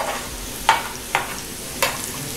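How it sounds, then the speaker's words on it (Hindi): Three short sizzling bursts rise over a low simmering pot of dal, like hot tempering hitting the cooking pot. "अभी ये बन रही है दाल, अभी तड़का लगेगा"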